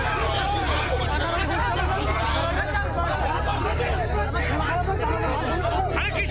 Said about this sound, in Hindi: भीड़ में मौजूद लोग भी आपस में झगड़ रहे हैं।